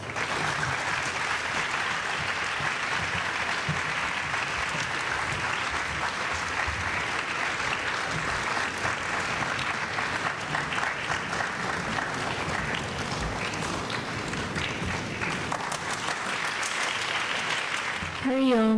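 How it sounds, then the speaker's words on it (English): Long, steady round of applause from an audience at a community dance and cultural evening, continuous clapping with a voice briefly emerging at the very end. "Please give them a round of applause."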